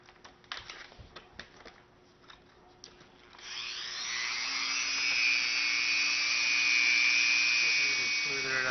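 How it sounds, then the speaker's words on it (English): A Dremel grinds the flared metal edges of a Yoshimura frame slider on a Suzuki motorcycle, starting with light taps and scrapes before a sustained, high-pitched whine of the rotary tool on metal. "I'm going to take this Dremel and I'm going to grind the flared out edges."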